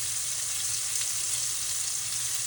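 Floured beef pieces searing in hot oil, a steady, close crackling sizzle with a low bubbling undertone that continues evenly throughout, with no talk.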